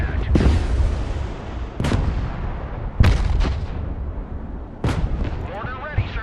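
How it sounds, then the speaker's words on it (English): Abrams tank main gun firing in the Broken Arrow combat video game, four heavy booming shots spaced a second or two apart over a constant rumble of battle noise, loud and close. "Abrams engaged in combat."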